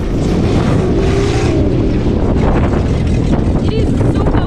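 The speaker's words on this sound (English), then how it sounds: "It is super windy here." Strong wind buffets the microphone on a windy outing near Sugarloaf in Rio de Janeiro, a constant loud roar with rumbling gusts that fills the whole clip and drowns out any other sound.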